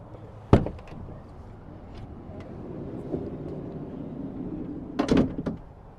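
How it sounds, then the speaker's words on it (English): The sliding door on a 2025 Thor Sanctuary 19A RV built on an all-wheel-drive Mercedes chassis gives a sharp latch clunk, a soft rolling glide, then a heavier clatter as it opens fully, close by. "as you open the sliding door"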